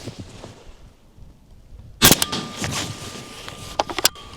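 A single sharp, loud shot from a Polish AK rifle in 5.45 caliber cracks out of near silence, fired at a helmet, followed by a ringing tail and a few smaller impacts and clicks.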